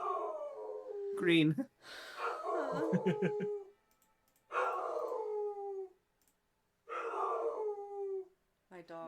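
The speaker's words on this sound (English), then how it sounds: "My dog is yelling so much." A pet dog howls and whines in drawn-out bursts, loud and close, alternating with a person talking during a casual card game.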